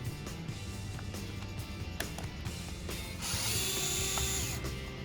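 A hand ratchet clicks as it backs out small trim screws on a Honda S2000 interior, quick close clicking bursts with a few sharp ticks, under faint background music.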